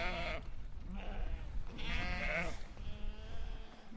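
Sheep bleating in a mountain setting during a trek, with several distinct wavering bleats repeating in short bursts, fairly close and loud, with no talk over them.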